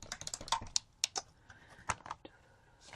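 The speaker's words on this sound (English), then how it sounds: "Oh, you cleaned your wireless keyboard" Someone types on a wireless computer keyboard with quick, uneven clicks and clacks. The keystrokes are close and come in short bursts with brief pauses, and no one talks.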